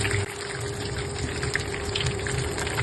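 Breaded fish fillets sizzle steadily in hot oil, a continuous crackling hiss with small bubbling pops running through the whole stretch at close range, no voices.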